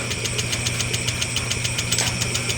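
An overheated Honda Click 125 scooter engine with a damaged piston and block runs with a steady, rapid metallic knocking, a regular clatter repeating over a low mechanical hum, close and continuous.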